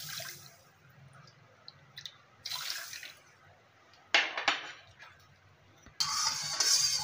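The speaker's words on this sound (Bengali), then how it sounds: "আমি ওই বাটির মাপে 2 বাটি জল দেব।" Water poured from a measuring bowl into a pan to make sugar syrup for chhena jalebi, coming in several short splashing gushes, the last one longest and loudest.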